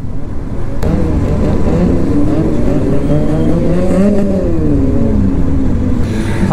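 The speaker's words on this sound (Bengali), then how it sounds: "বাইকের থ্রটল কম্পিটিশন হচ্ছে ওইখানটায়" Motorcycles gathered for an Independence Day group ride near Kolaghat bridge rev their throttles, engine notes rising and falling in a loud, continuous roar close by.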